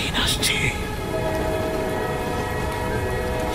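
An approaching train on a railway line at night, heard as a continuous loud rumble and roar with a brief high horn-like blast at the start, heavy and close throughout.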